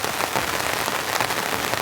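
Heavy rain from a full rainstorm drums on the roof of a compact van: a dense, constant patter, loud and close, with no voices.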